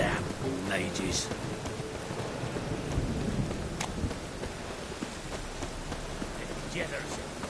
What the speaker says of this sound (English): Rain again. Damn mages.